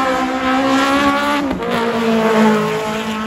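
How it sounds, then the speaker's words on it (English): A white AE race car being test driven on a track, its engine whining at steady high revs with a brief dip mid-pass, loud and close, with a faint tire squeal. "I see Lamar just testing his new car, that white AE"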